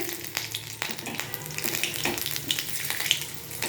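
Nigella seeds sizzle in hot mustard oil in a wok, a steady close crackle with scattered pops and occasional scraping, no voices.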